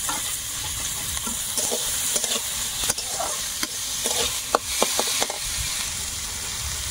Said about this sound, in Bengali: এবারে দেবো টমেটো। টমেটো কিন্তু একটু বেশি পরিমাণে, টমেটোর সঙ্গে কাঁচা লঙ্কাটাও দিয়ে দিচ্ছি।